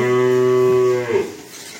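A single cow, a good-quality milking cow of about fourteen litres' yield, gives one loud, sustained moo that tapers off after about a second, close by with nothing else around it.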